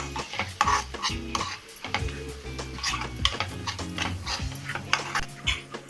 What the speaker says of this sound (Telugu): ఒకసారి కలుపుకొని మూత పెట్టుకొని మీడియం ఫ్లేమ్లో ఉంచుకుందాం